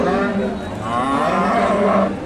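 Friesian cattle moo loudly and continuously at a busy cattle market in Bogura, one long drawn-out call filling the moment with no talk over it.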